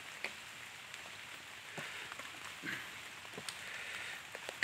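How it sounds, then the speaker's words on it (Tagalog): Rain falls steadily on a surface during a rainy day, a soft continuous patter with scattered louder drops, moderately faint and with no voices. "Maulan kasi"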